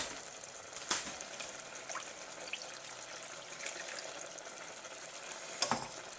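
About two cups of water go into a hot pan of chicken enchilada filling, giving a soft, steady sizzle and bubbling with a few brief splashy bursts, fairly quiet and with no talking.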